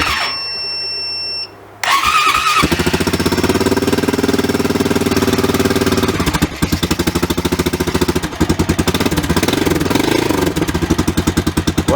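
A Honda Rancher 350 ATV engine cranks over with the starter, catches and settles into a steady, loud idle nearby. The choke is applied and the idle note shifts and roughens partway through.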